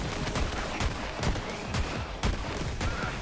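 Rapid pistol gunfire in Borderlands 3, loud and close, sharp shots popping about three to four per second over a busy background of more battle noise, with no talking.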